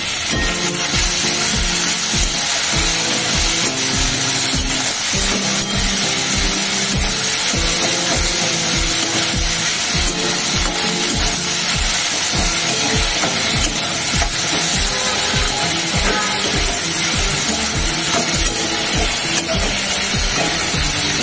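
Banana flower and prawn curry is stirred in a pan, giving a loud, close, continuous scraping and rubbing of a spoon against the metal with rhythmic strokes and a light sizzle underneath, lasting throughout.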